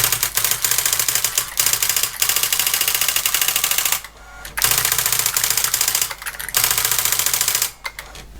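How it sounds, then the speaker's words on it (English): An Olympia ESW 100 electric typewriter under repair types characters in loud, rapid mechanical bursts of clacking, broken by a few short pauses and a steady motor hum underneath. "I'll type a few more characters."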